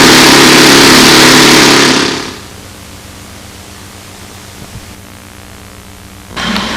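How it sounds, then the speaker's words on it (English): A Saito four-stroke model engine being run in indoors in a shop gives a loud, steady roar for about two seconds, then drops away to a quiet hum with a brief burst near the end. "that's a nice way to run an engine in if you have a choice"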